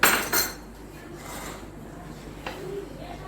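Crushed ginger and garlic are stirred into a beef karahi in a metal pan, with a loud scraping clatter of the spoon at the start and then softer intermittent scrapes and a clink.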